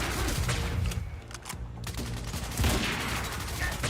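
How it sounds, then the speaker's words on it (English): Carbine gunfire in the action game Quantum Break, with rapid bursts of shots over a dense wash of combat noise and explosions, pausing briefly midway before resuming loudly. "I'm gonna use my carbine this time, which is a strong weapon in general."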